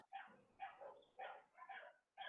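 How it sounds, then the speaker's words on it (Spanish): Dogs bark repeatedly outside, a run of distant, faint barks in uneven bursts with short pauses between them, heard alone. "Oh, esos perros."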